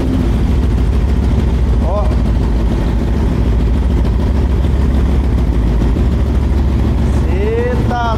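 A Honda CB300 two-cylinder motorcycle engine fitted with carburetors runs with a steady low rumble throughout. A voice speaks briefly over the engine noise.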